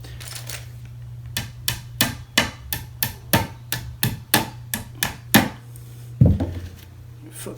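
Wooden dowels are hammered into holes in an IKEA Kleppstad armoire panel, a quick series of about a dozen sharp, evenly spaced knocks followed by one heavier thump, close and loud over a low hum.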